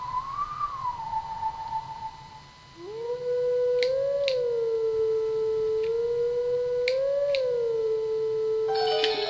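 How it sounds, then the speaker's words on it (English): Wolf Link from the video game Twilight Princess howls a melody at the Howling Stone, a long sustained wavering howl joined by a second held tone and bright chime accents, loud and clear over a soft ambient bed. "spend a long time howling a slow song."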